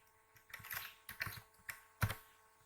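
Keys clack on a computer keyboard in short irregular bursts as a title is entered into a new list, with a firmer final press, quiet and close.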